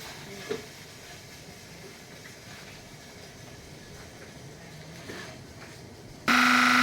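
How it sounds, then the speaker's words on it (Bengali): An aluminum can baling machine at a recycling center runs at a faint, steady hum, then bursts abruptly into a loud, harsh, buzzing roar near the end. "মেশিন চালু হয়ে গেছে, এখন ব্যান্ডেল তৈরি হয়ে যাবে।"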